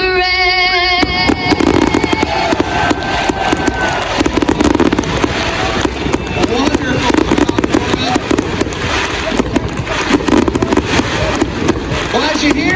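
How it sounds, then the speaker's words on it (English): Fireworks shoot off at Eldora Speedway during the 4 Crown Nationals race event. Loud bursts and crackles come in dense succession, with voices mixed in underneath. "as you hear the fireworks shoot out"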